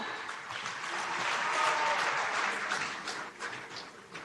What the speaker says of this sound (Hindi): आइए तालियों की गूंज से उनका अभिनंदन करें।